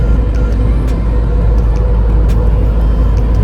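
Inside the cab of the smallest truck in a convoy on the highway from Rajasthan to Mumbai, a loud, constant low engine and road rumble drones on steadily, with no speech.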